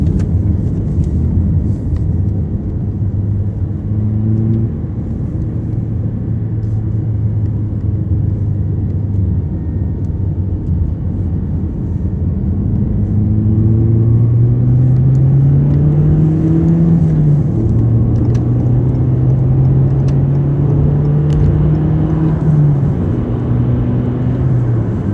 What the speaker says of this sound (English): Let's see what the drone on the highway is like.